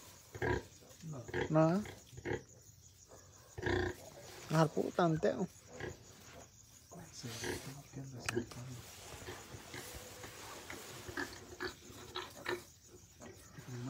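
Pigs on a ranch, grunting and oinking in short bursts close by, mixed in with people talking throughout.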